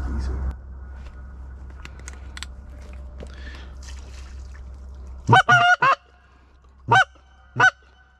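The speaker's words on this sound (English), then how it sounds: "I wonder how close those geese are." A few geese honk in a quick cluster during a duck hunt, then two more single honks follow, moderately close over a quiet, faintly rumbling background.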